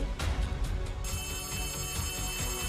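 A telephone bell rings in the Poppy Playtime Chapter 3 video game, giving a sustained ringing tone over a heavy low rumble of game ambience, steady and fairly loud for a few seconds.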